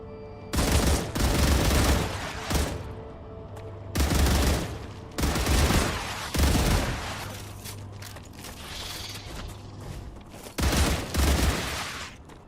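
Automated turrets in the video game StarRupture fire at bugs in repeated bursts of rapid gunfire, loud and close, separated by short gaps with mechanical whirring in between.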